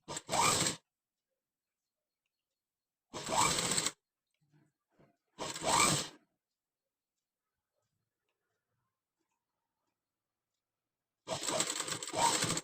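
A sewing machine stitching a sleeve runs in four short separate bursts of buzzing, each under a second long, with silence between them.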